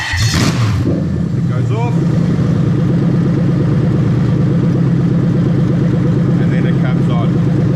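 An LS V8 swapped into a Lexus IS200 cranks and fires with a sharp burst, then settles into a loud, steady lumpy idle close by, while someone talks over the running engine.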